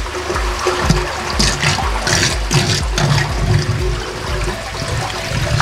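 Murky koi pond filter water churns and splashes steadily as the sludge is stirred during a backwash, a loud, continuous rushing wash close by.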